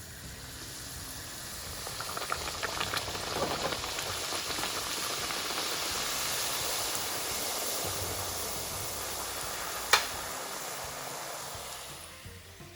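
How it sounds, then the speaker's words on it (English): Sindhi dal pakwan dough frying in hot oil, a steady hiss and crackle of bubbling held evenly throughout, with a brief sharp tick near the end. "I'm going to fry the others in the same way."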